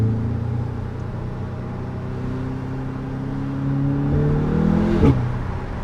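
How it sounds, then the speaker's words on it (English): Audi S3 engine pulling hard inside the car, a loud steady rising drone that climbs in pitch, then a sharp gear change with a brief dip and bark before the note settles again. "That noise of the gear change Yeah, is as I say, absolutely you could just hear the power."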